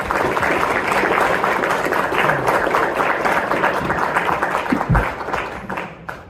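A conference audience applauds as a sustained dense wash of clapping from many hands, steady and loud throughout before thinning slightly near the end.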